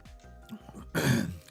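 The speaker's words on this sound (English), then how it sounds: "Still coughing an awful lot." A short burst of harsh coughing, like a throat being forcefully cleared, follows a moment of quiet shuffling, close to the microphone.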